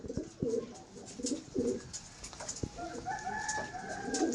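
Pigeons of the Madrasi flying breed coo in a loft, several low throaty bursts near the mic, with outdoor background noise and a sharp knock midway.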